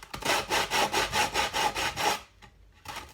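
Wood rubbed with coarse 100 grit sandpaper gives a steady series of about nine rhythmic back-and-forth rasping strokes, close and fairly quiet, followed by a short pause and one more stroke.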